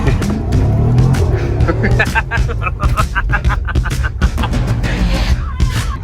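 A 2020 Toyota Supra with a muffler delete exhaust, heard up close as a loud deep engine rumble with sharp rising revs and crackling bursts, while people talk over it.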